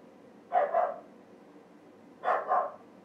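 A small dog barks in two short bursts, each a quick pair of yips about two seconds apart, at moderate distance in a quiet indoor room with faint background hiss.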